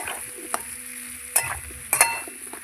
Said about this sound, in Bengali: এই যে পেঁয়াজটা দিয়ে দিচ্ছি, পেঁয়াজটা দিয়ে একটু নেড়ে চেড়ে এবার আমি ঢেকে দেবো।